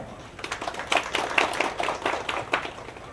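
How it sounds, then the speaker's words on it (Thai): Audience clapping at a Thai outdoor kick-off ceremony for a lumpy skin disease prevention and control campaign in Udon Thani, as insecticide supplies are handed over: a steady patter of scattered hand claps for about three seconds, moderately loud. "ขอเสียงปรบมือเลยครับ"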